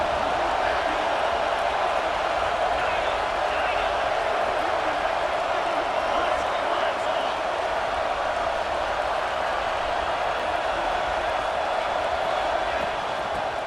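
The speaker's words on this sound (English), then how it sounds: "This crowd is trying to inspire this defense to make a big red zone stop." Stadium crowd noise from a college football video game fills the space as a dense, steady roar of distant voices that holds level throughout without rising or falling.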